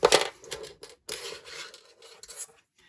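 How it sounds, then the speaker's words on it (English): Fishing line being snipped while tying a rotten bottom rig for cod fishing near Filey, with several short close-up cuts and rustles in a quiet setting. "Then I roughly measure it out to about the same length and I cut it there."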